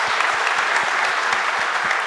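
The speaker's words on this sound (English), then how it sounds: "Can I get an applause for the people who have a contract badge already?" Conference audience applauding steadily and fairly loudly at a developer community event, a dense wash of many hands clapping without pause.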